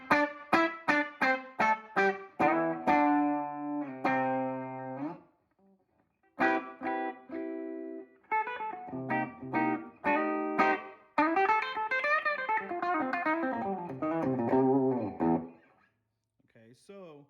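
Electric guitar on its treble pickup with the tone rolled fully up, played through a 1963 Ampeg Reverb Rocket amp: bright, twangy country picking, plucked notes and chords in bursts with a short pause midway, clean and close.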